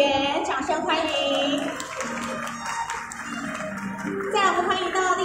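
Applause and clapping welcome a legislator at the opening ceremony of the 2023 international heavy motorcycle show, running steadily under a host's announcing voice throughout.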